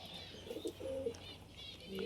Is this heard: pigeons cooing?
yes